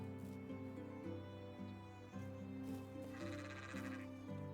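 Sheep bleat in Medieval Dynasty, several wavering calls at a moderate distance layered over steady game music and a background drone.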